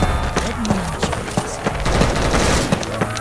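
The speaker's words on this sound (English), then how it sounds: "Man, y'all shooting me." Rapid bursts of gunfire from friendly players in Left 4 Dead 2, sharp repeated shots in an irregular fusillade over game ambience, with a voice briefly present.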